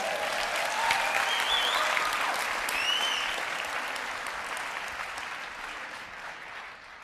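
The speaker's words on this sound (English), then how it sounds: "Give Albert a big round of applause, will you?" Audience applause fills the room, a sustained wash of clapping at steady volume that fades gradually toward the end, with no talk over it.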